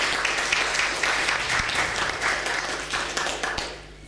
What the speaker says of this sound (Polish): Przywitajmy. Brawa.